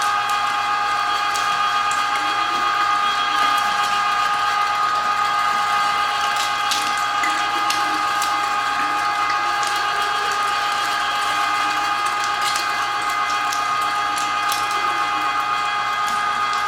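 An electric meat grinder with a foot switch grinding beef for jerky, a steady loud motor whine with a constant hum that runs unbroken throughout, no voices.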